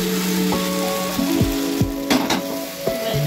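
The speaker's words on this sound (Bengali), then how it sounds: "এবার দুটো কাঁচা লঙ্কা দিয়ে দিলাম, আর ভেজে রাখা আলুগুলো একে একে দিয়ে দিলাম" Fried potatoes and two green chillies go into masala sizzling in oil, a steady loud frying hiss broken by several dull thumps and scrapes as the pieces drop in one by one, with a tonal melody running beneath.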